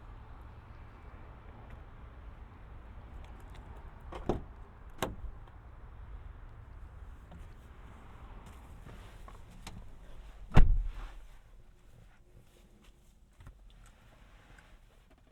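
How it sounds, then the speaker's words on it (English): A 2019 Nissan Pathfinder SL power tailgate closing, with faint beeping chimes and a low motor hum ending in a firm latching thud, quiet and close in a calm outdoor setting. "To close the tailgate, all you gotta do is hit the button, and it'll chime to let you know it's going down."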